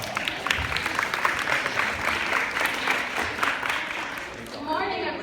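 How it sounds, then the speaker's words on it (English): Audience applause at a school event with cadets, a dense patter of claps that stays steady, then thins and trails off near the end. "Let's give them one more round of applause."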